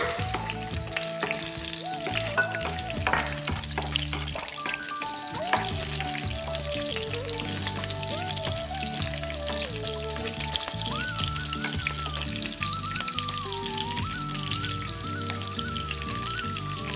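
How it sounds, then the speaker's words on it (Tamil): Mustard seeds, fennel and onion frying in hot oil for a village-style brinjal dish: a loud, busy sizzle with popping seeds and spitting, steady throughout and close, with no voices. "எண்ணெய் காஞ்சிச்சு, இப்ப கடுகு ஆட் பண்ணிக்கலாம். கடுகு சோம்பு ஆட் பண்ணிக்கலாம். அடுத்தது வெங்காயம் ஆட் பண்ணிக்கோங்க."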